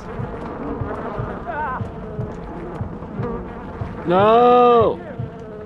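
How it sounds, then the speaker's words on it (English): A swarm of bees in Far Cry 4 buzzes in a loud, dense burst of under a second amid busy game sounds, with quieter buzzing heard briefly earlier. "Not the bees."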